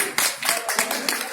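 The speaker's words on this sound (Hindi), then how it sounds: "इनके लिए ताली है।" Audience applause at a silver wedding jubilee celebration for arriving guests, a burst of steady, fairly close clapping.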